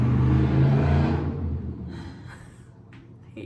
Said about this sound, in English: I hate trucks